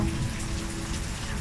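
Rain falls outdoors in a dense, even patter and hiss, soft and continuous with no voices.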